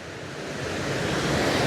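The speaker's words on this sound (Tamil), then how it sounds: "பாருங்க எவ்வளோ வேகமாக தண்ணி வந்து ஓடுதுன்னு சொல்லி" Fast floodwater surging through large irrigation channels near Muthaiyankattu after heavy cyclone rains, a continuous broad rushing roar that swells slightly louder, with wind buffeting the microphone and no voices.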